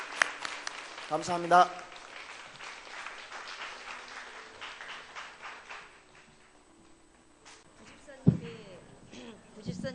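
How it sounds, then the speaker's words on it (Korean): A church congregation applauds in a broad wash of clapping that peaks early and slowly thins out, and a voice speaks briefly over the fading applause. "하나님께 박수 한번 올려드리기 원합니다"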